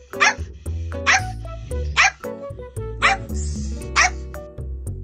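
A dog barks repeatedly and loudly nearby, about five sharp woofs spaced roughly a second apart with whimpery yips between, alone with no talk.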